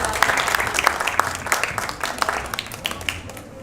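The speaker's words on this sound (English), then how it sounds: "give him a big hand of applause" Audience applause at a talk on positive relationships: a moderate, fairly near round of clapping that stays steady and then tapers off toward the end.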